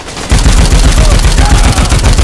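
Loud, dense automatic gunfire rattles continuously in the zombie game Dead Rising, a rapid close burst that starts abruptly and keeps going at full volume for a couple of seconds.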